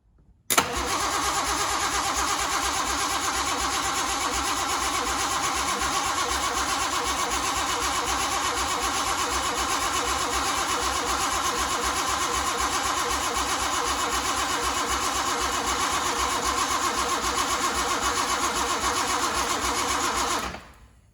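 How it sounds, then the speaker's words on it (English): Reliant Scimitar GTE SE5/A engine started by bridging the starter relay, catching almost at once with a short cranking burst, then idling loudly and steadily with an even throb for about twenty seconds before cutting off. "There's a starter relay here, which I can bridge to start it"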